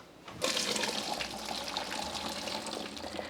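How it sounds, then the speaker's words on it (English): Cooked pasta is tipped into a colander, and a sudden heavy gush of water pours out and keeps splashing and rushing steadily for a few seconds, close by with no talking. "The pasta is done, so let's get that drained."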